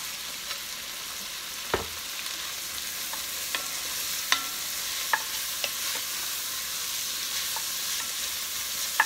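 Corn kernels sizzle steadily in a hot pan while a spoon stirs them, giving a constant hiss broken by a few sharp scrapes and taps against the pan.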